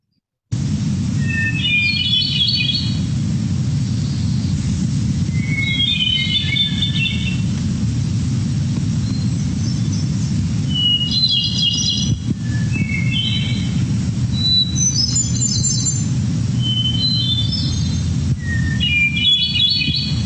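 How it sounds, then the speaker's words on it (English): A single bird sings a varied song of many quick notes at dawn, its phrases repeating in short bursts over a constant low rumble and insect hum. "so would you agree that's a kind of a pretty song? Lots of notes there. That's one bird."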